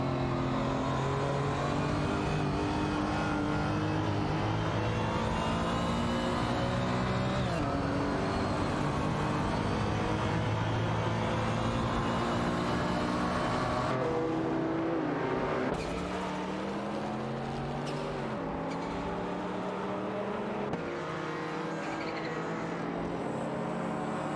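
Race cars in an AI racing video game, including a Ferrari 512 TR and a Porsche 959, roar steadily with layered engine tones and shifting revs, loud and continuous throughout, with no talking.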